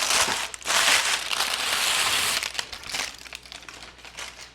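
Loud, close crinkling of stiff parchment paper being handled and crushed, in bursts that fade toward the end, no voices.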